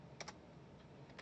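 Soft, quiet keystrokes on a computer keyboard while typing into a terminal, a couple of quick taps early and another cluster at the end, close and faint.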